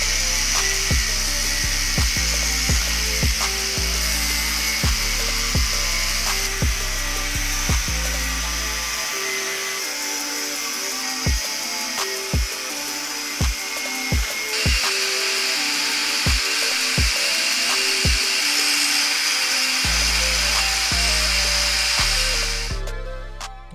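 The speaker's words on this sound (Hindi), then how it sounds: "ग्राइंडर से इसको कट कर देंगे" Angle grinder cutting through metal stock while shaping a homemade adjustable wrench, a sustained loud whine with repeated short bursts and pauses as the disc bites, close and steady with no talk.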